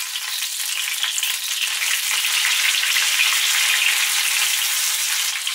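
Milanesas fry in generous oil in a pan over medium-high heat, giving a steady, close, continuous sizzle that holds evenly for the whole stretch with no talking.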